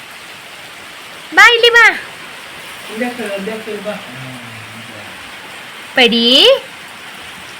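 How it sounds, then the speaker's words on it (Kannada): Heavy rain pours down outdoors as a sudden downpour begins, a steady broadband hiss running throughout beneath a few short spoken calls and quieter talk. "ಜೋರು ಮಳೆ ಬರಲಿಕ್ಕೆ ಶುರುವಾಯಿತು"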